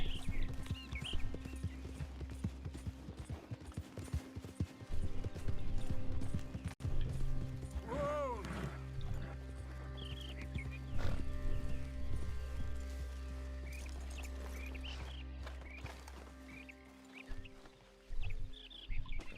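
Horse hooves clip-clopping at a steady rhythm while riding in the Red Dead Redemption 2 video game, with a low engine-like game hum underneath and a brief whinny partway through; fairly close and continuous.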